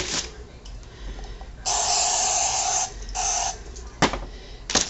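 Several short bursts of aerosol cooking spray hiss close by, one long, then a shorter one and a quick final puff.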